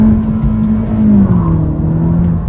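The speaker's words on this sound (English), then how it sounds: "Try a pull so you can hear the engine noise out." A 2023 Honda Civic Si engine pulls hard under acceleration, a loud, close, steady drone whose pitch climbs and then drops partway through as it moves into second gear, with no voices.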